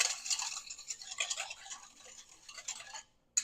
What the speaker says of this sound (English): And we just whisk it